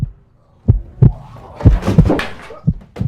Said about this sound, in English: For many minutes the heart beat on with a muffled sound